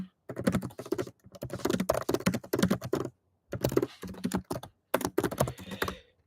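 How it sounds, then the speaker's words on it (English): Fingers type on a computer keyboard in quick bursts of rapid key clicks, broken by short pauses, close and clear with no talking over it. "just going to type it here"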